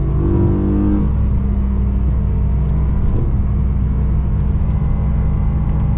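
A BMW E92 M3 drives through turns, its engine giving a loud, close, steady droning rev with a brief pitch dip early on, then a sustained throaty hum over road rumble.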